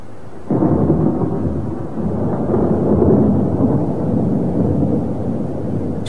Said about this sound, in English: Storms tumble round the hills.